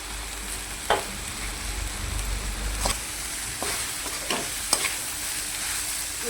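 Carrot and spring onion fry in ghee for Chinese-style veg noodles. A steady crackling sizzle is broken by several sharp clinks and scrapes of stirring, close and moderately loud.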